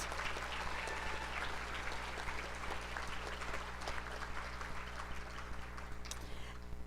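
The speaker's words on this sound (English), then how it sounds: "So I'd like to give another big round of applause to our team and your team that put on this great event." Audience at a 4-H horse roundup awards event at a livestock exposition gives a round of applause, steady dense clapping throughout over a low hum in a large hall.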